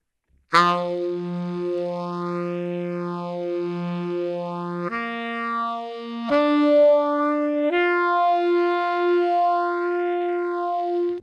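Horn run through a phaser modulation effect: sustained held notes stepping between pitches while a slow oscillating whoosh sweeps up and down through the tone, loud and alone.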